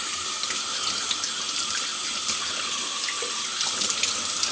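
Kitchen faucet running hot water into a sink, a steady close hiss of flowing water that stays even and continuous throughout, with no voices.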